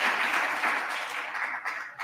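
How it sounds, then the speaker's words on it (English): A debate audience applauds at a Kajiado senatorial debate, steady dense clapping from a crowd filling the room for a couple of seconds, without talk over it. "Can we just give them a round of applause"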